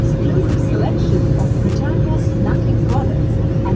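BMW S1000RR superbike with a loud, steady engine and exhaust drone that holds through the whole stretch, a few sharper revving blips riding on top.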